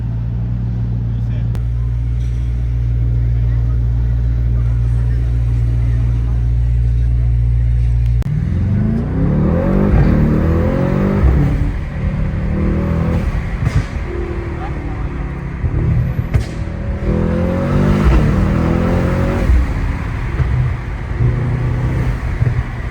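Mercedes-AMG GT63 S with a 650-horsepower engine driving through Beverly Hills streets, a steady low drone that swells into loud revving bursts with crackling exhaust pops, while people talk over it.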